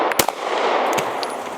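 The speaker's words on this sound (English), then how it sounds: "Not a bad shooting little gun" A single sharp shot from a small gun cracks at the start, followed by a steady loud background hiss and a few faint clicks and distant reports.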